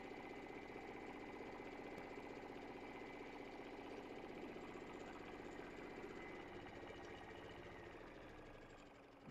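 A sewing machine stitches the final side of a reversible apron with pockets, its motor giving a steady, close, continuous hum that holds for the whole stretch and eases off slightly at the very end.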